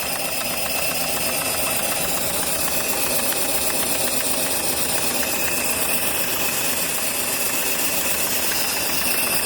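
A restored coal-fired Shay two-truck live-steam locomotive by Walter Kolb, LGB garden scale, runs under steam pressure with a steady rapid mechanical chuffing and clatter, close and continuous with a faint hiss.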